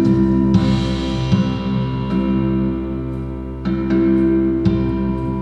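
Drums recorded through an acoustic guitar, mixed with added effects: resonant, ringing string drones swell under soft, spaced drum hits, producing a lush, atmospheric wash with no voices.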